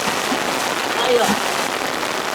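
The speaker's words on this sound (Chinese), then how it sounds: "下雨了，下雨了，这场雨过来应该是蛮大的" Heavy rain falls outdoors beside a small pond, a steady dense hiss of drops that stays constant throughout the short stretch, with a brief faint voice murmuring partway in.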